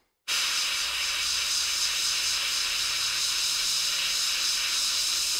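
Steady airbrush-style paint spray hissing onto a latex mask, starting abruptly and holding a loud, even hiss to the end with no talk.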